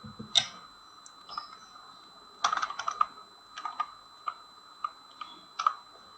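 Keystrokes on a computer keyboard while typing a group name into distribution software, sparse clicks and a few quick clusters of taps, close and fairly quiet in a still room.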